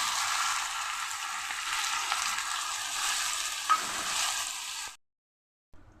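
Masala frying in a pan for a green banana dhoka curry, with water poured in, sizzles and hisses steadily under scraping stirs for about five seconds before cutting off abruptly.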